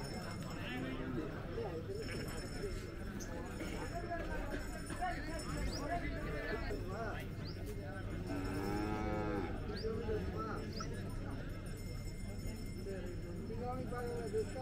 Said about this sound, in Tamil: இது நன்றாக வளர்ந்த ஒரு பசுமாடு.